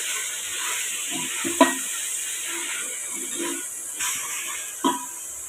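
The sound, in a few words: ginger garlic paste sautéing with tomatoes in a pan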